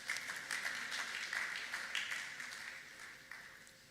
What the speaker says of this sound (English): You can clap for us.